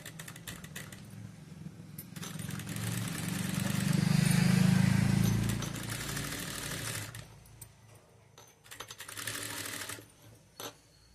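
Sewing machine stitching a double-folded hem along a fabric edge, a fairly quiet steady run that swells in the middle and then breaks into short stop-start bursts.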